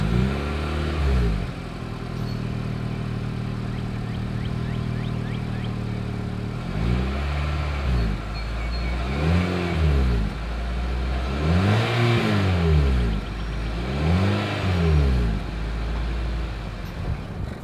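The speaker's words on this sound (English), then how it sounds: "As always, here is that exhaust clip." Exhaust of a 2022 Mitsubishi Outlander SUV at idle, then four sharp revs in a row, each swelling and falling back to a low steady idle, heard close and loud without talk.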